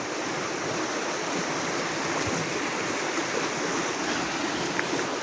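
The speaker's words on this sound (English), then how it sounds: "And there's just like this rapids." Rapids on Tusquittee Creek at a campground rush in a steady, broadband roar of flowing water, continuous and fairly close throughout with no voices.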